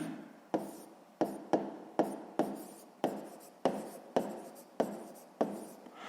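Pen or marker writing a maths equation on a board, with about a dozen quick repeated strokes, each starting with a sharp tap and fading scrape, close and clear.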